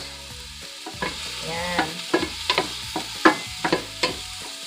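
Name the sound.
onions frying in a pan for ramen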